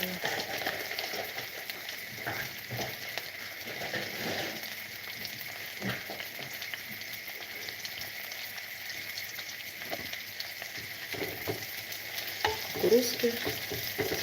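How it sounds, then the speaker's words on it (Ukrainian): Frozen sweetcorn frying in a pan for a one-person breakfast, giving a steady crackling sizzle throughout with occasional stirring scrapes and a louder burst of spitting near the end, no talk. "Воно шквариться, можна накрити кришечкою"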